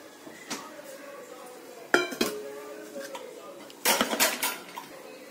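Shawarma vegetables and chicken being mixed with mayonnaise in a bowl: sharp spoon-on-bowl clinks and knocks in a few bursts over a quiet kitchen background.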